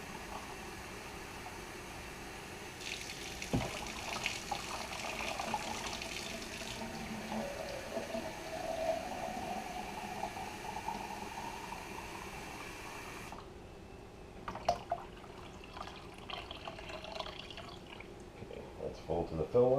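Warm water pours steadily into the bowl of an Aerogarden Bounty Classic hydroponic garden, a steady splashing rush that changes partway through and then gives way to drips and handling, with a voice talking in places.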